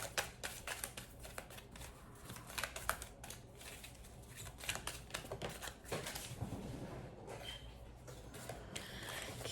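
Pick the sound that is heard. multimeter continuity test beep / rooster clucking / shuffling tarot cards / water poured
shuffling tarot cards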